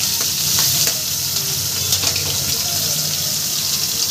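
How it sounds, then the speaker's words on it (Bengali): Chopped onion, garlic and green chilli fry in hot oil for a jackfruit paratha, giving a steady close sizzle with occasional sharp crackles and light stirring scrapes throughout. "সমস্ত মশলা আমি সুন্দর করে ভেজে নেব।"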